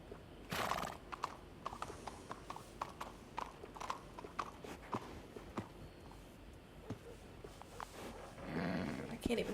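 A horse whinnies loudly and hooves clop in an uneven rhythm close by in Red Dead Redemption 2, with other sound effects layered over them.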